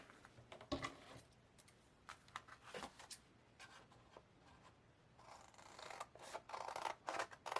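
Scissors cut through a paper envelope close up in a quiet room, a series of soft, crisp snips and paper rustles coming in short irregular bursts.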